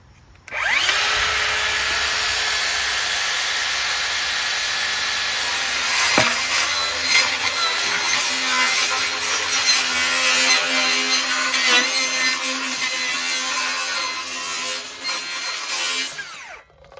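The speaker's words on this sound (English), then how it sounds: "I'm gonna use a circular saw just to go around the outside." A circular saw whines loudly and continuously as it cuts around a plastic bucket, a steady high-pitched grinding lasting many seconds before spinning down.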